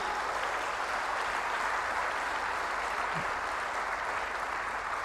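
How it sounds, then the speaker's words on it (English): An audience at a business school graduation ceremony on the ISB Mohali campus claps for families in a continuous wash of dense applause, steady and loud from start to finish. "A big round of applause for all our families"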